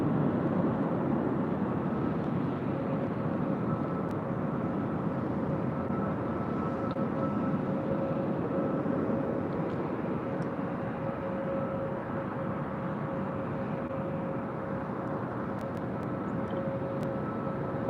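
Airliner rolling down runway 24 left at LAX, a continuous broad jet engine roar with a steady tonal hum, even and moderately distant across the whole stretch.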